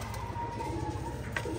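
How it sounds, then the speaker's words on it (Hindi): A pigeon perched on top of a net coos softly and repeatedly, a steady low murmur over a constant background hum. "एक कबूतर ही ऊपर रह गया जाल के ऊपर"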